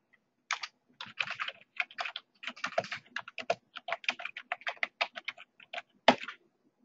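Close, crisp keystrokes on a computer keyboard as text is entered into a Visio 2016 callout, coming in irregular bursts and runs with short pauses between, one sharper key hit near the end, alone without any voice.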